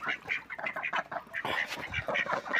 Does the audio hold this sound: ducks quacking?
yes